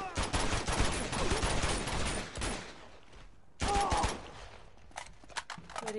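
Gunfire from the video game Uncharted 2, a burst of dense, rapid shots crackling loudly for a few seconds, then a pause and a second volley with scattered single shots, with a voice speaking faintly underneath.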